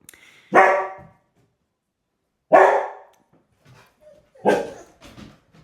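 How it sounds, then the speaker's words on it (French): Dogs bark three separate times, loud and close, each sharp bark followed by a pause of about two seconds, with faint whimpers and shuffling in between. "Mes chiens s'expriment au mot liberté."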